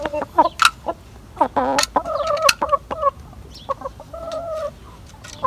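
Chickens at a village house cluck in short, close bursts with irregular rhythm, and one bird lets out a higher squawk now and then. The scene is fairly loud and there is no talking.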